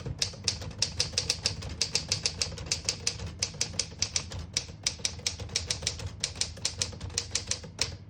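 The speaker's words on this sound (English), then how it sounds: "I'll type a sentence in red on the next line" Rapid, steady clacking of a 1953 Smith-Corona Silent-Super portable manual typewriter, sharp key strikes in a quick uneven rhythm, close and clear with no voices.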